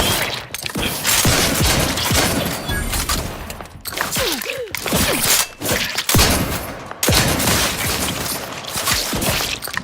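Rapid video game weapon fire in The Outer Worlds 2 comes as dense bursts of booming shots and mechanical clatter, loud and continuous, with brief gaps between volleys.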